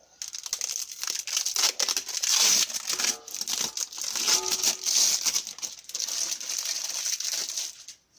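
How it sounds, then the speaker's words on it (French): Packaging crinkles and rustles as a key-cutting machine is unpacked, with continuous close plastic crackling and crumpling, some light knocks, fading out at the end. "c'est déballer la machine."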